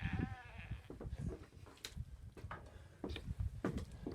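Fat grass-fed sheep bleat a few times on a farm, wavering calls heard quietly in the background amid handling noises.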